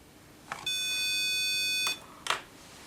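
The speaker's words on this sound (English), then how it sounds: "The beep means that the switch is closed." A multimeter's continuity tester sounds one steady electronic beep when a switch on a Roland CR-78 drum machine is closed, holding for over a second before cutting off, with faint clicks just before and after, alone and close.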